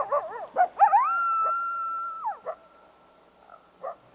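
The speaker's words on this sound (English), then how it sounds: "High above the den, the small pack barks at a mountain lion." A small coyote pack yipping and barking, then a long wavering howl, followed by a few scattered faint yips at a moderate distance with quiet gaps between them, no voices.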